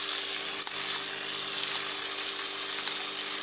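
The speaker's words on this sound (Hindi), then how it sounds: "और हम चिकन को भूनेंगे 7-8 मिनट। फ्लेम हाई है हमारा," Chicken curry fries in a pan on a high flame, a steady close sizzle with a couple of faint clinks from a spoon.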